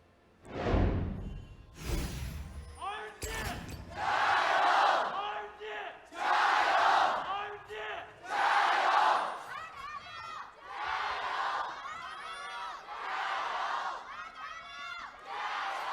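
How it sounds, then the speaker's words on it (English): A packed esports arena crowd in Beijing roars and chants at an LPL League of Legends semifinal, with loud, sustained waves of cheering and rhythmic shouted chants that swell and fall repeatedly, a commentator's voice briefly over the top. "I want to hear the crowd go ballistic one more time as we get onto the Rift."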